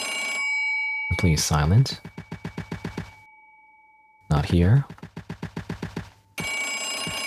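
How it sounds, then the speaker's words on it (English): An old-style telephone rings in the video game Nun with a Gun, in two bursts of rapid bell trills with silence between them, while a voice speaks briefly over the ringing. "Phone? Answer the phone"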